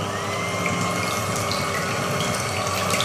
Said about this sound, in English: Now I'm going to use an electric whisk